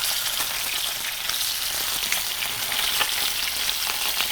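Fish coated with ground coriander fries in a pan with a steady, dense sizzle and crackle, close and continuous, with small pops scattered throughout and no talking.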